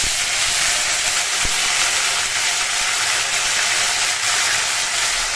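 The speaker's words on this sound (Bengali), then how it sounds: "একটু ছিটকাচ্ছে তার জন্যে আমি একটু লবণ দিয়ে দিলাম তাহলে ছিটকানোটা একটু কম হবে" Ginger and green chili paste spatters in hot oil in a home kitchen pan, a loud, continuous dense hiss with fine crackling that holds steady throughout, with no voices.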